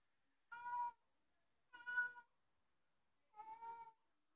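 A cat guarding its food meows three times, each cry drawn out and clear against near silence, with pauses of about a second between calls.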